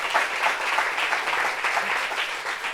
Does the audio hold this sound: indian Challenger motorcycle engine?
no